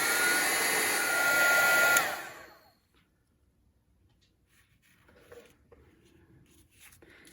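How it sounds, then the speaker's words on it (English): Heat gun blowing hot air onto a paper holiday card, a loud steady whoosh for about two seconds that cuts off, followed by quiet small handling sounds. "So this is the heat gun. I'm just going to, it gets loud, so I'm just going to apply heat to it"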